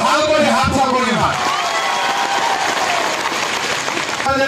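A large outdoor election rally crowd claps and cheers in a dense, steady roar of applause, loud and close, with voices mixed into the noise.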